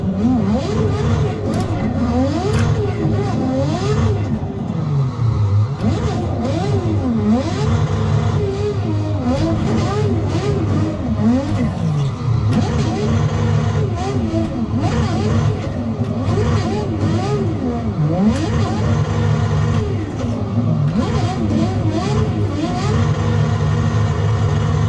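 Race car with a 1,000-horsepower engine in the Assetto Corsa sim, revving hard and steadily through repeated rising and falling gear sweeps, loud and close for the whole stretch with no pauses.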